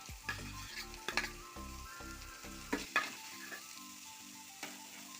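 Okra and sliced onion fry and get stirred in a pan for a Kerala-style okra thoran, with several clear scrapes and clatters of a spoon over a soft, steady sizzle, while background music plays throughout.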